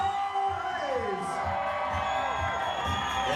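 Wedding guests at a reception cheer, whoop and shout together in a loud, sustained burst of crowd noise, with a rhythmic thumping music beat underneath.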